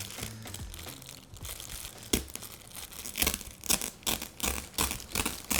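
Plastic packaging on a Temu return pallet is cut and torn open, crinkling and ripping in uneven bursts, with louder tearing snaps building toward the end, close by and fairly quiet.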